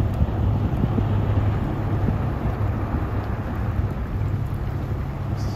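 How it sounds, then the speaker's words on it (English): River ice breaking up against the bow of a freighter on the St. Clair River, a steady, dense crunching and rushing roar with a low rumble that holds at an even level throughout. "You can hear it breaking up on the front of the ship."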